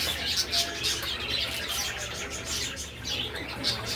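Pet parakeets chirp in a busy, overlapping chatter of short high tweets, close by and continuous, with soft cooing notes and a little wing flutter mixed in.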